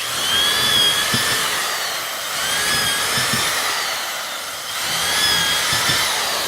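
Power drill boring into wood in a wood shop, a loud continuous high whine that dips and rises in two cycles as the bit is worked in and out of the stock, with faint thumps beneath.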